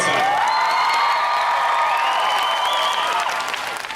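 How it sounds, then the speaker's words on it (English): Audience applause at a Comic Con panel in Salt Lake City, sustained clapping with cheering and whoops from a large crowd, tapering slightly at the end. "give you all some applause for being here before the con even starts"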